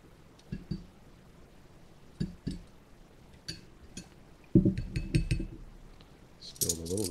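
A metal tablespoon clinks against a cup of hot water in scattered light taps, then a quicker run of clinks as it stirs, close up and fairly quiet.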